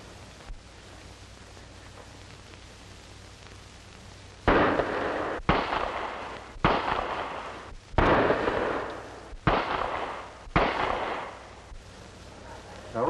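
Pistol shots at target practice in a 1940 crime film, fired from a revolver with a hair trigger: after a quiet start, about seven loud, sharp reports ring out at irregular intervals, each trailing off in a short echoing decay.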